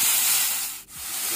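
Tomatoes fry in a hot pan for a clams sukka dish, giving a loud, steady close-up sizzle that dips briefly before hissing on.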